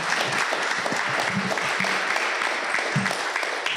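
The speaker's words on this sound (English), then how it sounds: "I want you to give yourselves a round of applause" An audience at a community candidate forum claps in a dense, steady round of applause that holds at an even level throughout, close and full with no clear voices.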